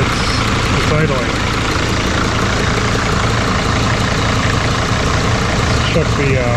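A 2006 Sprinter T1N diesel van with a newly installed cylinder head idles steadily and loudly up close, a continuous even rumble throughout, with some faint voice-like sounds over it.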